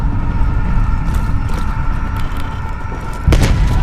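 Gunfire in the video game Call of Duty: Black Ops Cold War, heard as a loud, rumbling battle with dull booms and thuds and one sharper, heavier blast near the end.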